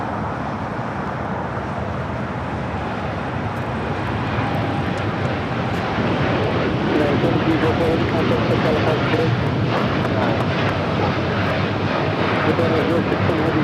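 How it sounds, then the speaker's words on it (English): A United Airlines Boeing 787-9 Dreamliner takes off at LAX, its broad engine roar steady and fairly loud, growing slightly stronger partway through, while people talk nearby. "This is United Airlines 1704 taking off to Newark on a 787-9 Dreamliner"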